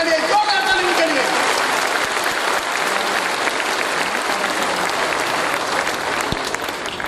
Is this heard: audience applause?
yes